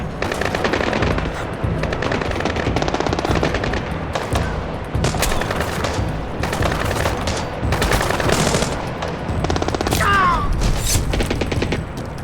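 Sustained automatic gunfire in Splinter Cell Blacklist, loud continuous machine-gun bursts with booming shots and little pause, a voice barely heard beneath the firing.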